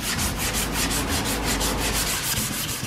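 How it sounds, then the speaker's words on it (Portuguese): A flexible sanding block with 150-grit sandpaper rubs steadily back and forth over a surface coated with filler and primer, making a close, loud, continuous rhythmic scraping with no talk. "Agora sim eu posso vir com um taco flexível com a lixa 150, só para ter certeza que eu apaguei todos os riscos."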